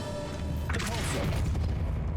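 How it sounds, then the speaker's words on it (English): A Depulso spell cast in the video game Hogwarts Legacy lands as a sudden whooshing boom with a scatter of rumbling debris after it, while a voice speaks over the effect. "Depulso."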